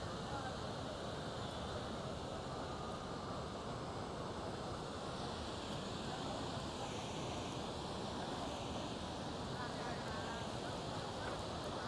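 Steady, dense roar of water at Chitrakote Waterfalls, a broad wash of noise that holds at an even loudness the whole time with no pauses and no talk over it.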